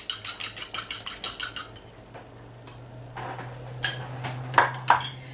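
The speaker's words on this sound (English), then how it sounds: "we have 3 eggs, which is we just to whisk slightly, just to break them up" Three eggs are whisked in a bowl with about a dozen quick, evenly spaced metallic clicks against the side. These are followed by a few scattered, louder taps and clinks over a faint steady hum.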